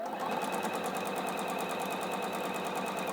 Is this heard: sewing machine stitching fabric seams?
yes